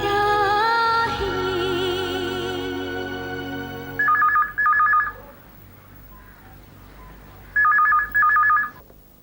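A telephone rings with an incoming call as soft music fades out. Two separate double-ring bursts sound clearly and loudly over a quiet room.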